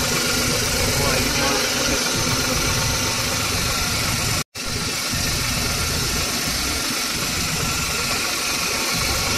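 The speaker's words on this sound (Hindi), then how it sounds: "गाड़ी कंप्लीट हो गई है, स्टार्ट है गाड़ी अभी।" A Renault Kwid with an 800cc engine idles steadily up close after repair work on an oil leak and a misfire. It gives a continuous, even hum with a faint vibrating rattle and a brief dropout midway.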